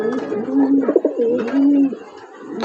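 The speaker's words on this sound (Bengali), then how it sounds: "দুটোই দোবাজ লাইনের পায়রা" Dobaj-line pigeons in a loft give a few close, throaty coos, low rolling notes with a brief pause between them, clear and alone.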